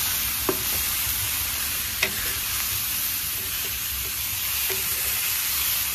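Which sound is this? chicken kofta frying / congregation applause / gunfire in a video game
chicken kofta frying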